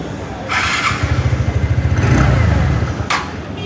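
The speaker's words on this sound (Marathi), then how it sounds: "तुम्हाला मी गाडीचा साऊंड ऐकवतो कसा असणार तो." A 2024 TVS Ntorq 125 Race XP scooter engine, low on petrol, sputters to life and idles with a rapid, steady chugging, rising slightly before settling, close by.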